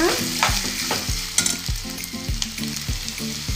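Prawns fry in a pan with a constant sizzle, while a spoon scrapes through them in a regular rhythm about twice a second, close and clear with no talk.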